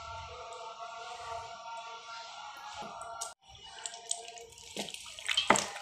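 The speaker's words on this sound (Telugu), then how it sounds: "ఆయిల్ కొంచెం బాగానే పడుతుందండి బిర్యానీలో" A full cup of oil poured into a Hyderabadi-style chicken dum biryani, a steady liquid pour lasting a few seconds and then briefly breaking off, followed by wetter splashing and clatter at the end.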